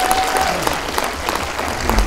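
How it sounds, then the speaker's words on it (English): A crowd at an event in the de Young Museum gives a round of applause, loud sustained clapping from many hands with scattered cheers mixed in. "So give yourselves a round of applause for being here."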